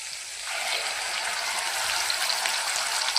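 Chopped coriander and garlic frying in oil for a drumstick vegetable curry, a steady, close hiss and fine crackle of sizzling that continues evenly throughout with no talking.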